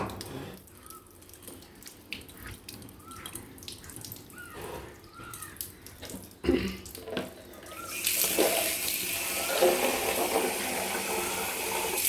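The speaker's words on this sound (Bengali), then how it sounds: "পাটাটা ধুয়ে পাটা ধোয়া জলটাও আমরা নিয়ে নেব" A stone grinding slab being washed, water splashing and trickling in short bursts before a steady louder pour of running water takes over near the end, close by and without talk.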